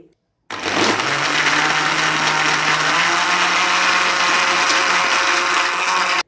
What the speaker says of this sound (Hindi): तीन चार बर्फ के क्यूब्स ऐड करती हूँ और फिर ब्लेंड करती हूँ